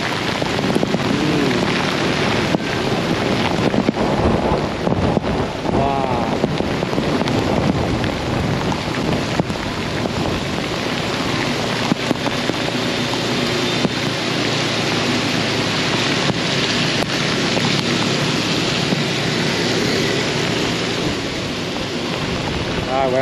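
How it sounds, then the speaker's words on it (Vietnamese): A heavy downpour with gusting wind sweeps a Saigon city street, a continuous loud roar of rain mixed with buffeting wind noise on the microphone and occasional faint voices. "Wow, mưa gió tầm tã luôn."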